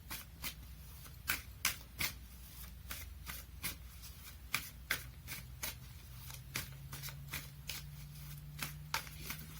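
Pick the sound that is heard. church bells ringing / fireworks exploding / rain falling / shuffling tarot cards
shuffling tarot cards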